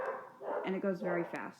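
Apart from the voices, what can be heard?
dogs barking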